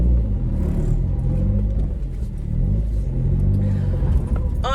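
A Toyota Starlet SR rumbles close by as it pulls out of a driveway, its engine note rising and falling steadily with no talking.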